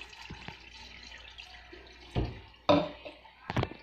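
Tap water from the sink poured out of a cup into a container while making a simple homemade CO2 setup, heard as short splashing bursts near the end amid quieter handling noises.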